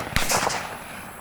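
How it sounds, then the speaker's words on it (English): Single shotgun blast on a dove hunt, a sharp loud report outdoors followed by a rolling echo that fades over about a second. "Shot, Ross."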